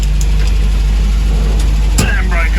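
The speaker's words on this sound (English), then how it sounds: "Starts like a beauty, this old car." An old car engine turns over and settles into a steady, loud idle close by, a low rumbling drone under a brief clunk partway through.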